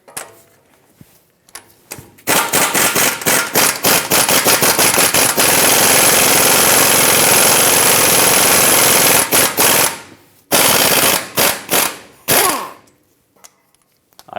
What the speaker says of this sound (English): Use a 21mm socket, remove this mounting nut.